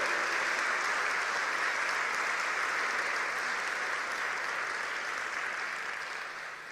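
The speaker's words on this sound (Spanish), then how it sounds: "Dale un aplauso" A church congregation applauds during a sermon, steady thick clapping from many hands, continuous and even, tapering slightly at the end.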